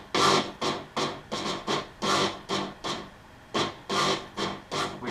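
Layered synth stabs over a 303 bassline in an electro track: short, bright, breathy hits pulse in a steady repeating rhythm at moderate level, with no voices.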